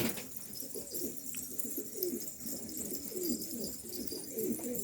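Sarı Macar and Sarı Güllü pigeons coo softly in repeated low, rolling phrases, fairly faint against a quiet outdoor background with no talking.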